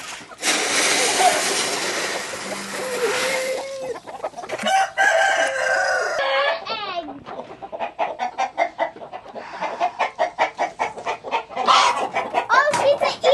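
Backyard homestead chickens cluck and squawk in a busy, uneven stream while a rooster crows loudly nearby, and voices come in faintly under the flock.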